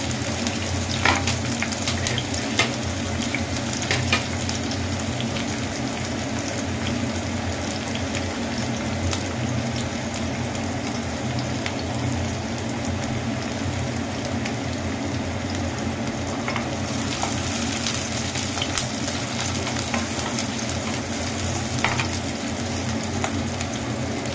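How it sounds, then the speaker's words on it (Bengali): Chopped onion and green chilli sizzling in hot oil for a Bengali fish curry, a continuous close frying hiss with occasional stirring scrapes, no voices. "তেলটা এবার গরম হয়ে গেছে, এখানে দিয়ে দেবো পেঁয়াজ কুচি, দিয়ে দেবো কাঁচা লঙ্কা কুচি"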